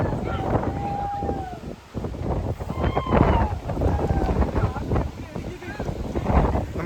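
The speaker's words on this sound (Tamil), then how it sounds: "காற்று பயங்கரமாக அடிக்குது." Strong wind buffets the microphone on misty monsoon hills at Amboli, a steady roaring gust with rumbling low noise throughout, while voices talk over it at times.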